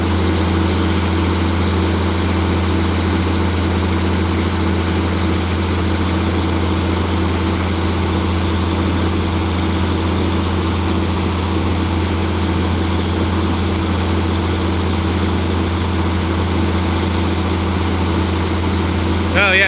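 An International 9130 articulated tractor runs with a steady, heavy diesel drone, low and constant throughout, loud and close with no change in pace.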